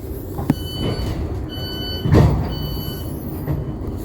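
A Thameslink train arrives at Redhill station, rumbling nearby with low mechanical noise, a sharp clank, faint high whines from the wheels and a louder surge midway.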